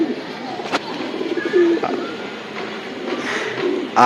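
Pigeons coo softly in a brief rolling call amid a constant background hum, with a few faint clicks and rustles and no voices.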